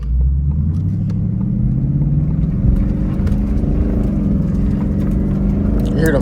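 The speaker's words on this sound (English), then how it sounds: "You hear them tires?" A Ford Mustang S550 Mach 1 rolls along the road, its tires humming under a low, steady engine rumble and road noise that persists throughout, with a few faint clicks and knocks near the end.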